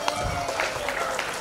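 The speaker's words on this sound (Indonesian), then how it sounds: "Tepuk tangan buat ketua komite kita" An audience at a school awards ceremony applauds the committee chairman, a short burst of dense, close clapping lasting only a moment, with no speech over it.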